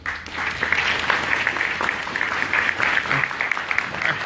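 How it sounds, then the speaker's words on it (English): An audience at a town hall applauds labor and veterans organization members, a full, steady round of clapping that rises quickly and sustains without talk. "Let's give them a round of applause."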